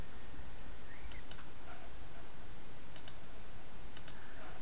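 Computer mouse clicks sound in short, sharp pairs, three double clicks spaced a couple of seconds apart over a quiet, hissy room background.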